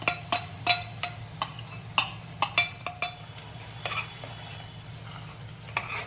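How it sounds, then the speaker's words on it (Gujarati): Onion and tomatoes with salt cook in a pan for kaju ganthiya shak, a spoon stirring and scraping in a steady series of sharp clinks over a faint continuous sizzle. "ડુંગળી અને હવે નાખી દઈએ ટામેટા"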